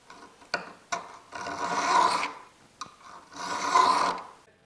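A file rasping along the edge of a Forstner bit held in a vise, two long scraping strokes with a few sharp ticks between them, close and fairly loud, with nobody speaking.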